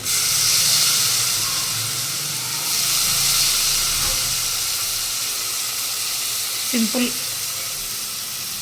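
Ridge gourd pieces dropped into a hot pan for a simple curry, giving a steady loud hiss and sizzle with a brief clatter near the end.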